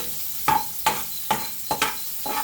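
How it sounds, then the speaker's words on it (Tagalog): Ginger sautéing in a pan for chicken and liver adobo, five sharp, close scraping stirs of the spatula at a steady pace over a continuous sizzle. "Naglalagay na po pala ako ng luya sa aking mga ginigisa."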